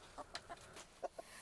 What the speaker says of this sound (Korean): 현동 씨의 또 다른 중요한 일과, 바로 닭장인데요